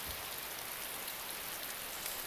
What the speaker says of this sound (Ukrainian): Все-таки дощ.